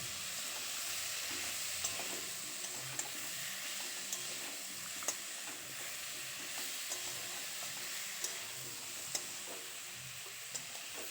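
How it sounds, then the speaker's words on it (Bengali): Ground cumin, chili powder, salt and ginger paste sauté in a pan for a mixed-vegetable pui shak chorchori, making a steady close sizzle. Occasional light spoon clicks come through as the mixture is stirred, with no talk. "এবার সমস্ত কিছু খুব ভালো করে কষিয়ে নেবো"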